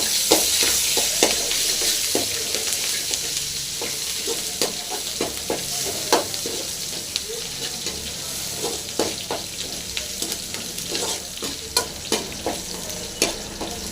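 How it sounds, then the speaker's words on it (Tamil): Crushed garlic and green chili frying in hot oil for horse gram rasam, a steady broadband sizzle with repeated sharp clicks of a spoon stirring against the pan, close and continuous with no talking. "அடுத்து இடித்த பூண்டு நல்லா கலைக்கலாம்"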